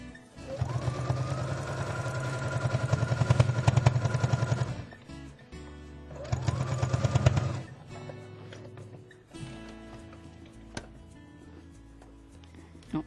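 A sewing machine stitches a short safety seam in printed fabric in two bursts of fast, whirring, rhythmic needle action, close by, separated by pauses with fabric handling and small clicks.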